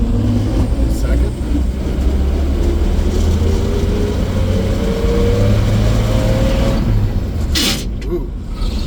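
A 1952 Chevrolet 3100 shortbed pickup with a new master cylinder drives along, its engine droning steadily and loud from inside the cab as it pulls through the gears, pitch rising and dropping with each shift, with a brief clatter near the end.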